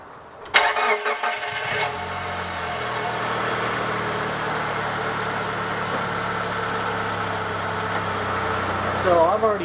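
A Mitsubishi Lancer engine cranks briefly, catches and settles into a steady, close idle after valve cover gasket work, the running hum continuing to the end.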